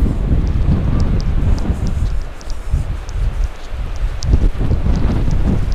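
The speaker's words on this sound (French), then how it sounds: "Et il y a toujours ce vent de" Cold wind gusting steadily across a mountain bivouac spot near a col in the Verdon area, a continuous rough roar of buffeting against the microphone that rises and falls in strength.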